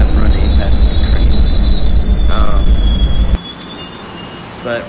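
Amtrak Superliner passenger train in a train simulator game slowing to a stop, loud rumbling with wheel squeal and screeching that cuts off abruptly, leaving a quieter hum with a brief squeak near the end.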